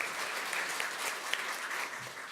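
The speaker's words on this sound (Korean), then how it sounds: "자, 이어서 문희상 국회의장님을 모셔서 격려 말씀을 듣도록 하겠습니다. 여러분, 뜨거운 박수와 함께 단상 위로 모시겠습니다." An audience at a national assembly budget forum claps steadily, a soft, dense patter of many hands heard from some distance with no voices over it.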